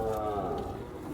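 A cow gives a single low, sustained moo, close and loud, at a bull and cattle market in Sangola.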